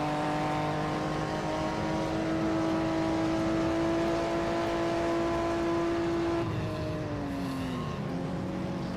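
A 1958 Formula One race car at Monza holds a steady high engine note, then downshifts with a falling pitch and blips near the end, loud and continuous with no talking.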